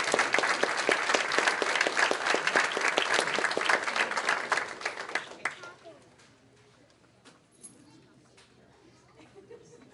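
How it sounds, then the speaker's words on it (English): Audience applause at a school district board meeting, loud and dense for about five seconds before fading quickly into quiet room noise with a few scattered claps. "So give her another round of applause."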